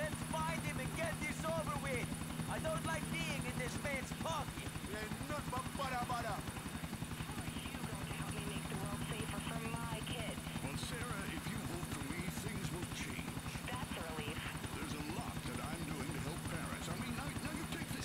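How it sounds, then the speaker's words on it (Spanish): Helicopter flying in the GTA IV video game during a chase, its rotor chopping steadily throughout at moderate level while someone speaks excitedly over it. "Sigue al helicóptero, no dejes que se escape."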